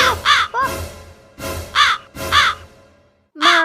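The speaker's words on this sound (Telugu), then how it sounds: "మా ఐదారు కాకి, నా బువ్వ మొత్తం చల్లిపోయింది." Several crows caw loudly and close by in a village setting, with five harsh calls in quick bursts followed by a pause and one more caw at the end.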